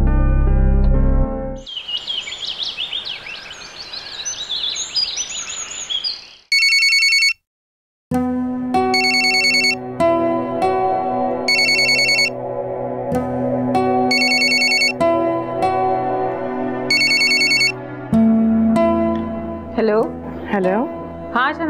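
A telephone rings in repeated bursts of bell-like trills across a Pakistani TV drama scene, starting after a loud noisy passage and continuing under background music, with a voice rising near the end.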